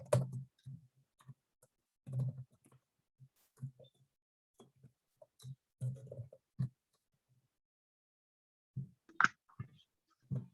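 Keys are typed on a keyboard in short uneven bursts of close, soft clicks separated by pauses.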